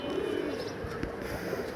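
Pigeons cooing faintly at a distance in a brief outdoor moment, a soft low murmur under steady background noise.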